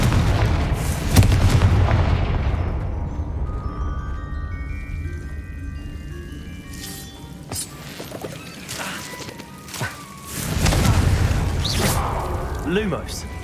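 Confringo fire-spell blasts in the Hogwarts Legacy video game, deep booming explosions with rumbling tails at the start and again near the end, loud and close, separated by quieter game effects and chimes, with a voice speaking between them.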